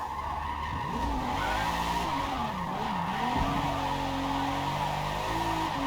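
In Forza Motorsport, a car slides sideways in a drift, tires squealing steadily beneath a wavering, revving engine that dips and climbs through corners, loud and continuous with no voices.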